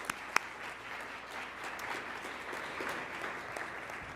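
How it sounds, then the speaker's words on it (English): A forum audience gives a round of applause for an event sponsor at a workplace gathering, the clapping fairly faint and even, with a couple of sharper claps near the start. "Let's give them a round of applause."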